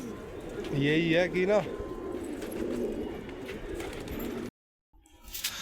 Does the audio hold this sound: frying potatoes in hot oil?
no